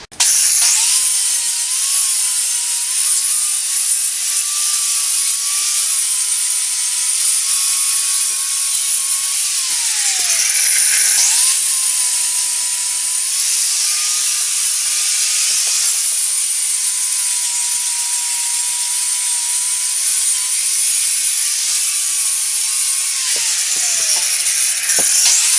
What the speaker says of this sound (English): I'm going to go ahead and clean it up quick with the grinder.